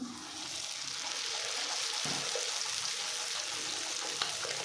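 Pea-stuffed kachori frying in hot oil in a home kitchen, a steady broadband sizzle with soft bubbling that holds level throughout, close and continuous with no talk.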